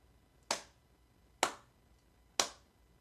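Three sharp, evenly spaced claps ring out alone, each a crisp single hit with a short decay, like a small, sparse round of applause for a final bow.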